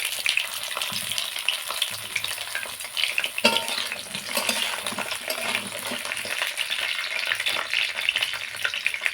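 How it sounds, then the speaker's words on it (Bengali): Chopped pointed gourd sizzles steadily in hot mustard oil, a dense, close frying crackle with stirring scrapes and one sharp clink partway through, no voices. "এবার পটলগুলো ভেজে নেব।"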